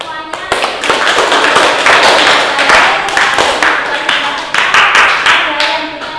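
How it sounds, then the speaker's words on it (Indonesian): Students in a classroom clap together for their classmates, a loud, close burst of sharp hand claps with irregular rhythm, some voices mingling in. "Beri tepuk tangan untuk semuanya."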